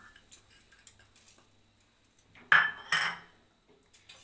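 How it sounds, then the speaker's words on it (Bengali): Sugar poured into a kadai (wok) heating on a gas stove, the first step of an eggless sponge cake, gives two short, close gritty rattles after a stretch of quiet kitchen ticks. "কড়াইতে আমি এই চিনিটা দিয়ে দিলাম।"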